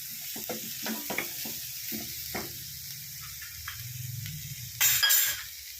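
Curry leaves hit hot oil with a bright crackling sizzle for oats biryani, followed by stirring and a few clinks, then a sharp loud burst of spitting near the end.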